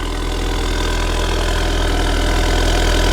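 An Acura RDX turbo fitted with an ATLP catback exhaust idles nearby, a steady, fairly loud low rumble with even pulsing and no talking.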